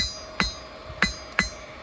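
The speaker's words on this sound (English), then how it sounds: "This is just an old lump hammer I used to have on the railway when I was a welder." Three sharp hammer blows from an old lump hammer, reworked into a forge hammer, striking hot spring steel while a bushcraft knife is forged, spaced unevenly and ringing over a quiet background with no talking.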